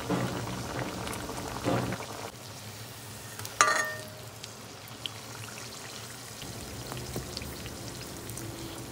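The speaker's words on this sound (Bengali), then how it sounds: "এই মিক্সচারটার মধ্যে আমি কিন্তু এই কুমড়োগুলোকে দিয়ে ভালোভাবে মিক্স করে নিয়ে এপিট ওপিট করে আমি এই গরম তেলের মধ্যে দিয়ে দিচ্ছি" Pumpkin slices coated in a spice mixture go into hot mustard oil and fry steadily with a soft, continuous crackle. A sharp burst of sizzle comes partway through as more pieces hit the oil.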